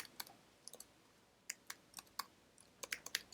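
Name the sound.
typing data on a computer keyboard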